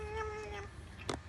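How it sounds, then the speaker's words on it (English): Interactive FurReal Bootsie toy kitten giving a short electronic meow with tonal, sliding pitch, close and moderately loud, followed by a brief rustling burst near the end. "That meow is, it sounds like when Shadow would call me"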